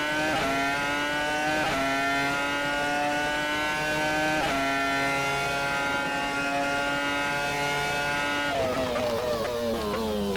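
A Renault R25 Formula 1 car in a racing video game screams at high revs, its steady engine whine climbing in pitch through gear after gear with sharp drops at each shift, loud and constant throughout.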